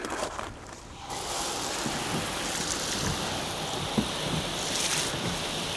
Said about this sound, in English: let's really test it with a garden hose